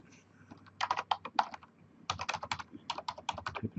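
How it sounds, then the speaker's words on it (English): Password keys tapped on a computer keyboard while setting up a directory services restore mode, two quick bursts of close, crisp clicking separated by a brief pause, no voice. "Type in a password for the directory services restore mode."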